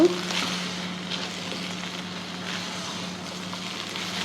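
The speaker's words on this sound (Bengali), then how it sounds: "দিয়ে দিয়েছি মাংস, ভালোভাবে মিক্স করে নিব" Cooked beef is mixed into loose, fluffy rice in a pot for beef tehari, giving a loud, steady sizzling hiss with soft shuffling and scraping as the food is turned, close and continuous.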